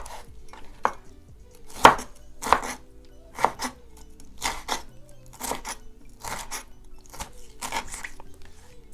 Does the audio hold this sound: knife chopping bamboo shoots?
yes